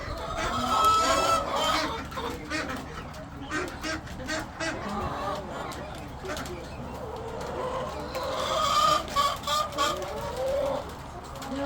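Khaki Campbell ducks and hens crowd a coop on a rainy day, giving steady overlapping clucks, squawks and chatter close by, with a person talking now and then among them.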